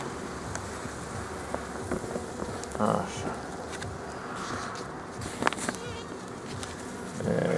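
Honeybees hum steadily around an open hive during a March inspection of a strong, wintering colony, a close continuous drone under intermittent talk and handling noises.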